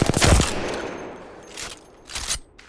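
Rapid bursts of R-301 rifle fire in a first-person shooter game, loud and close: a sustained volley at the start, then two shorter bursts after a pause.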